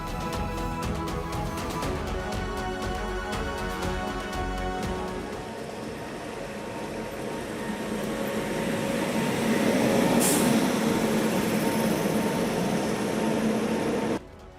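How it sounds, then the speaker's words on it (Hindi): An Indian Railways train emerges from the Banihal tunnel in snowy Kashmir, a steady loud rumble and rattle of wheels and carriages that swells toward the end before cutting off abruptly. "बनिहाल टनल से बाहर निकलती है भारतीय रेल"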